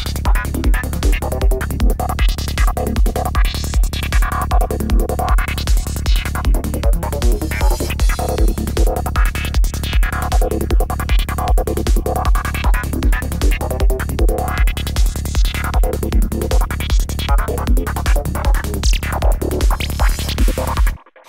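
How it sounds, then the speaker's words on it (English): A nighttime forest psytrance loop plays on its own, built on a steady, pounding kick pattern with rolling bass and swirling, sweeping synth textures that repeat for about twenty seconds before stopping abruptly. "main loop of a nighttime slash forest Psytrance track,"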